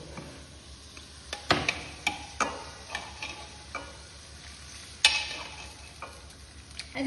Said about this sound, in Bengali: প্রেসার কুকারে সিদ্ধ খাসির মাংস, আলু সিদ্ধ, এটা গরম জল দিয়ে আমি খুব ভালোভাবে ফুটিয়ে নিচ্ছি